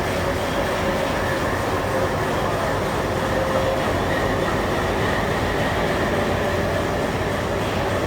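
A Sabarmati to Jodhpur passenger train runs along, giving a steady loud rumble of wheels and carriages with a faint squeal now and then, heard from on board and without talk.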